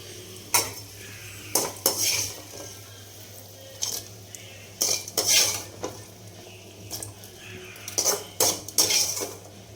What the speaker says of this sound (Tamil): இதோட தாளிக்கிறதுக்கு பானையில் தாளிக்கிறத விட இப்படி தாளித்து இதில் கொட்டிடலாம்.